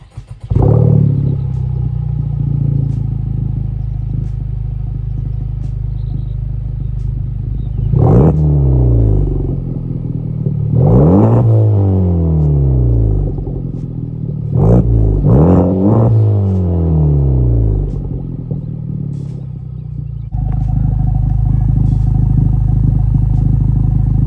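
A Honda Civic Type R with a GReddy DDR resonated exhaust idles on a warm start, then gives four or five sharp rev blips that rise and fall back to a steady rumble, close and loud with no talking.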